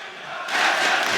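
Crowd at a Six Invitational esports match swelling from a murmur into loud cheering partway through a brief moment.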